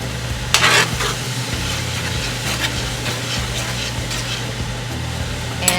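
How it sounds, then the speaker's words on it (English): Collard greens sizzle steadily in a pan as coconut cream goes in, a low continuous bubbling hiss broken by occasional stirring scrapes, close and fairly even throughout. "now I'm going to put the coconut milk or coconut cream"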